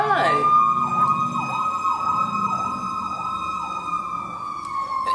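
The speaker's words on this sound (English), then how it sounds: "there goes the fire station, the fire engine, as it zooms on by" A fire engine siren wailing as the truck passes close by, a loud steady cycling tone over traffic rumble, with a person talking over it.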